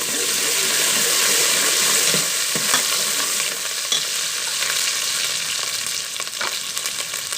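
Loud, hissing sizzle of ginger garlic paste frying with onions in a hot pan for white chickpeas, close up, with occasional stirring sounds.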